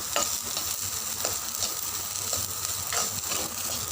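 Vegetables such as beans and capsicum sizzle and hiss steadily as they are stir-fried in a pan for sweet corn soup, with occasional stirring scrapes, close and continuous, no talk.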